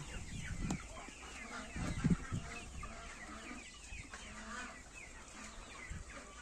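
Mixed-breed chickens cluck and a rooster calls amid a busy farmyard during extreme heat, with several short bird calls over steady background noise.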